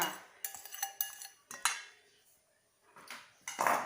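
A knife cuts garlic into small slices for a Thai Yai steamed enoki mushroom dish. Sharp clacks and clinks of blade and kitchenware come in uneven bursts with quiet gaps between them, and no speech.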